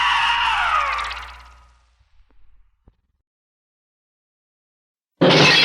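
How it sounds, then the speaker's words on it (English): A loud, drawn-out scream from a horror film radio advertisement falls in pitch and fades into near silence, followed by a few faint knocks and then a sudden loud burst of sound at the end. "Now scream!"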